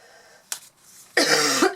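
A brief throat sound is followed by one harsh, close, loud cough from a person indoors.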